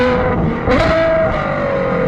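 A Ferrari 812 GTS fitted with a Novitec exhaust revs hard nearby. The loud, steady engine note climbs in pitch partway through and then holds high, with no voices over it.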